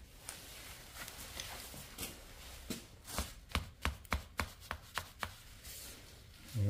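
Bark being stripped by hand from the lower trunk of a tree near the roots, down to the inner bark: a faint run of scraping and crisp snapping cracks that speeds into a quick, rhythmic cluster, then stops.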